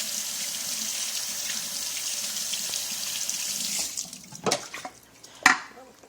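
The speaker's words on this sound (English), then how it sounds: "I'm going to rinse it." Meat is rinsed under a running kitchen tap, a steady close rush of water that then breaks into splashes and a few sharp knocks as the meat is handled and the flow stops.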